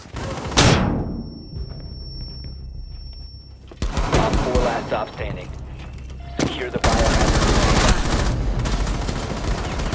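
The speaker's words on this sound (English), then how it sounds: "flashbang out." Tactical shooter gameplay from Rainbow Six Siege with a flashbang grenade detonating as a sharp loud bang and ringing tone, followed by bursts of gunfire and explosions in close quarters.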